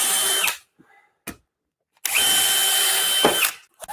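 Power drill driving screws into drywall during room drywalling, two loud whirring bursts of about half a second and one and a half seconds, each ending in a quick pitch drop, with short clicks in the pauses.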